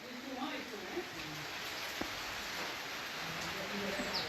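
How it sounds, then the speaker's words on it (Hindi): Steady rain falling outdoors, a continuous broadband hiss with occasional faint drop ticks, heard alone without talk at a constant moderate level. "देखिए बरसात हो गई"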